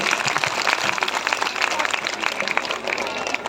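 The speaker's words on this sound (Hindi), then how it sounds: "जोर से तालियां बजाइए, इनका मनोबल बढ़ाइए।" An audience applauds for a performance by small children at a community cultural event, a sustained dense patter of clapping that runs under a host's amplified voice.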